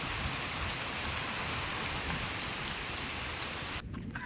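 Steady rain falls in a dense, even hiss that cuts off abruptly near the end, with no one speaking.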